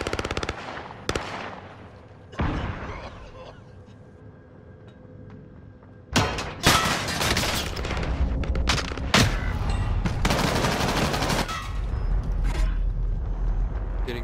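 Video game shooter gunfire: rapid automatic bursts and single shots, sparse at first, then dense loud volleys crowding the second half, close and harsh with heavy low rumble beneath.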